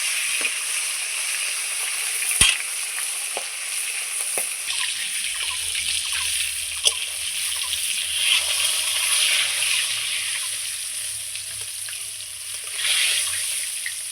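Pieces of fish frying in oil in a pan for a Bengali fish kalia, a steady close hiss of sizzling with occasional sharper crackles and pops, no talk.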